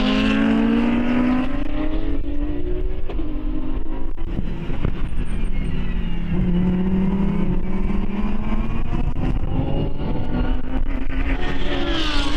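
GT race cars compete at BalatonPark, engines roaring loud and continuous as they accelerate and shift, with rising and falling pitch sweeps from cars passing close together.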